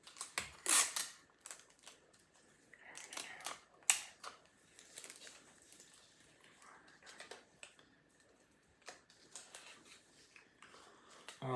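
Adhesive tape being pulled and pressed along the front and sides of a 3D letter A made in a craft session, with scattered crackling tears and rubs in short bursts and quiet gaps between.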